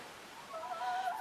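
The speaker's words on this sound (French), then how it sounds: "j'ai des nouvelles poules" Hens cluck faintly at a distance, with a few short, wavering calls in quick succession rising over quiet background hiss.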